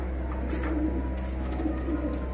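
Pigeons coo softly in low, repeated murmurs over a steady background hum, with no voices.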